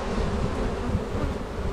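Honeybees hum at a hive entrance fitted with an entrance reducer and feeder, forming a dense, continuous close-up drone with no pauses.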